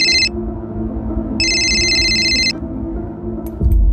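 A phone rings with an electronic warbling tone, two bursts heard close and clear over a low background hum, followed by a brief click.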